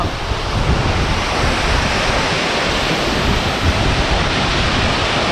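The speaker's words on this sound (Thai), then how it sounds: "น้ำตกตาเจียงครับที่ เมืองปากซ่องสปปลาวครับพี่น้อง" Tat Yueang waterfall in Pakxong, southern Laos, a loud, steady roar of falling water with a broad, unbroken rush throughout and no voices.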